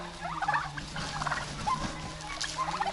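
Several turkeys gobble in repeated bursts over a steady, busy farmyard background, with calls overlapping at close to moderate distance.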